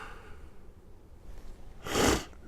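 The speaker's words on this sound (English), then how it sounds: "Excuse the sniffles, if you would." One short nasal sniff near the end, breathy and close, after quiet room tone. No speech.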